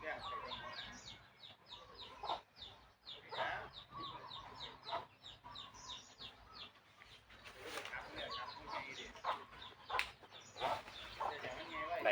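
Chickens clucking in a garden, repeated close clucks and squawks in an uneven rhythm, with someone speaking intermittently over them.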